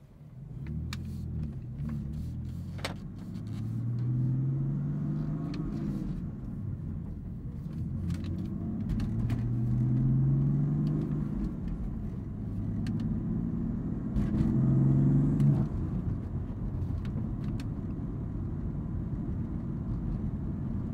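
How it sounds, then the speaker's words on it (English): A 2015 BMW M4 with a manual transmission, in Sport Plus mode, accelerates through several gear pulls. Its deep exhaust note rises in pitch with each pull and drops between shifts, heard steadily from inside the car. "We are in Sport Plus, so we'll be able to hear the exhaust note as well."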